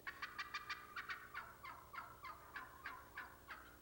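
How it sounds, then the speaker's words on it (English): Wild turkey hen cutting: a rapid series of sharp, clucking notes in uneven bursts, about a dozen in quick succession, clear and close with no other sound. "Cutting is an excitement call made by all turkeys."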